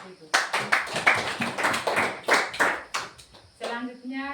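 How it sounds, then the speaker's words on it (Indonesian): Small group applauding a presenting team: a short burst of light, uneven hand clapping from a modest audience, tapering off as a voice begins speaking near the end. "Sekali lagi kita berikan aplaus"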